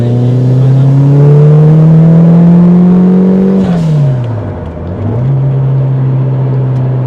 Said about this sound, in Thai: เนี่ยขับโคตรสบายเลยเกียร์สามไปละ